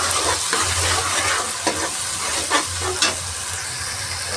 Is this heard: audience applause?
no